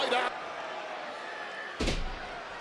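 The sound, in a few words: wrestler hit with a clothesline and slammed to the mat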